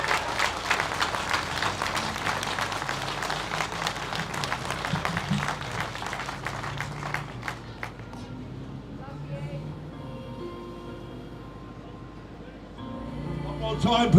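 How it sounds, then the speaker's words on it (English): Outdoor protest crowd in London applauds a speaker, brisk clapping that is loud at first and thins out after about eight seconds, then fades into murmuring and background noise before rising again at the end. "So give her a massive round of applause"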